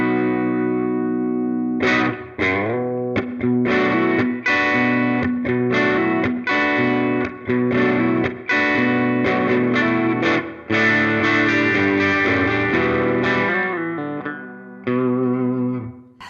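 Jazzmaster electric guitar played through the bridge pickup blended with a little neck pickup, a driven, effected tone with strummed chords and sustained notes in a rhythmic riff, loud and close with brief gaps between phrases, no talking.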